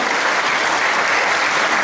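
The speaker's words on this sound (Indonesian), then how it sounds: "tepuk tangan dong." An audience of parents claps together at a talk, a dense, loud, continuous roll of applause filling the whole stretch without letup.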